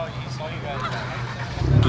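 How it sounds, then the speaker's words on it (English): A few geese honk nearby outdoors in a brief burst, with voices murmuring in the background. "Geese."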